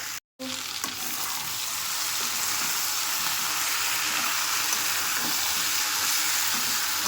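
Spice paste sizzling steadily in oil for a vegetable and fish curry, a dense continuous fry that holds at an even level after a brief silent gap near the start, close and alone with no voices.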